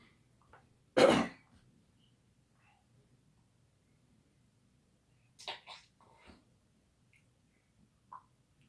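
A person coughs after spraying something in a room: one sharp, loud cough, then a few softer coughing or throat-clearing sounds later, with quiet between them.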